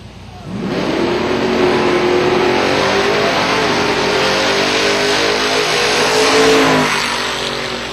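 Drag race launch at Silver Dollar Raceway between a Chevrolet S10 and a Ford Mustang: engines roar up suddenly and hold a loud, sustained rising howl for several seconds before easing off.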